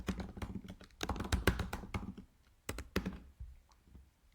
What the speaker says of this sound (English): You click create new poll and you type your choices.